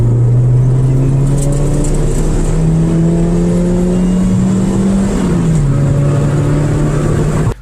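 A 1.6-litre Mazda MX-3 with stock intake and stock exhaust drives along, its engine note loud and close, holding a steady hum that rises slightly and then dips as the revs shift.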